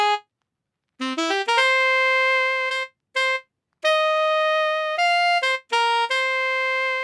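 Dry sampled saxophone playing a short melodic phrase with no effects: a string of clean, distinct notes, some held and some quick, moderately loud and alone, with brief gaps between phrases.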